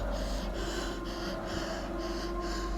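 Heavy rhythmic panting from a running character in a horror story, about five quick, loud breaths at a steady pace, close and alone over a low background drone.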